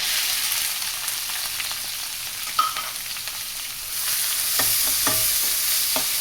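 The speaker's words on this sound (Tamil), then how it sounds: "பொடியாக நறுக்கின வெங்காயம்," Finely chopped onions sauté in hot oil under a steady sizzle, with a spoon scraping and stirring the pan in several short strokes near the end, close and alone.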